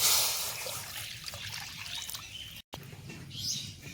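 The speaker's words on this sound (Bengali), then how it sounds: "কড়াইয়ের মধ্যে পানি দিচ্ছি" Water is poured into a wok for boiling beef brain, a close, continuous trickling splash that is strongest at the start and then tapers off, broken by a brief silent gap, with no voices.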